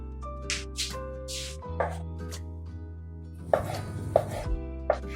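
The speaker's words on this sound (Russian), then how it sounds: "Сердечко нарезаю произвольно, стараюсь, чтобы все выглядело соломкой." A knife taps against a cutting board in irregular chops, cutting chicken hearts into strips, close by, over a sustained background hum.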